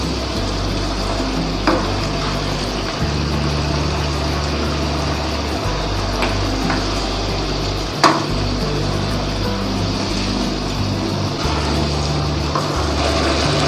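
Mutton achar gosht cooks in a pot with a steady, loud sizzle, broken by occasional scrapes and clinks of stirring.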